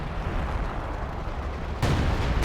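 Artillery gun fire in a team battle video game with a Priest and Katyushas, a dense, heavy rumbling barrage that swells suddenly louder near the end.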